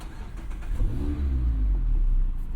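An ND1 Mazda Miata engine turns over and catches, settling into a low, rumbling idle that stays fairly loud and close.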